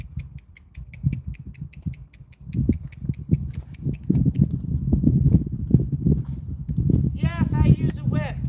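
A horse at a rescue ranch moves at a trot, its hooves giving a steady rhythmic clip-clop on the ground while a person talks over it and a higher squeak briefly joins near the end.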